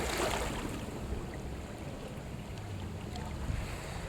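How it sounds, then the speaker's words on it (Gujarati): A vehicle drives through deep floodwater from unseasonal rain in a city street, producing a continuous rushing slosh and spray like surf, close and steady throughout, with no talk. "આ જુઓ ગાડી જાય છે ને વરસાદ કોણે હિલોળા ખાય દરિયાની જેમ"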